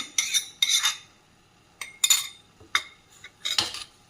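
A spoon stirs masala into a pan of vangi bath, a few bursts of scraping and clinking metal, close and fairly loud, separated by short pauses.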